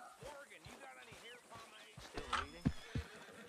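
A horse in the video game Red Dead Redemption 2 gives a short whinny with a few hoof clip-clops, soft and under steady Finnish-speaking commentary.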